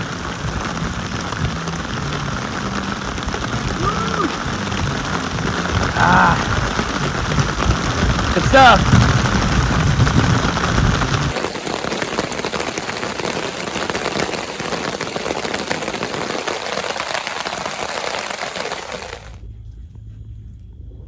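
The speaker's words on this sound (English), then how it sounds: "finally we got to cool off. Beautiful rain." Heavy rain pours down at a summer camp after a hot, humid day, a loud, continuous hiss of drops on surfaces that cuts off sharply near the end, with a brief spoken remark partway through.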